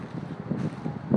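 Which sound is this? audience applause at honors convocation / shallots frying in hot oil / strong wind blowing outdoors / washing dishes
strong wind blowing outdoors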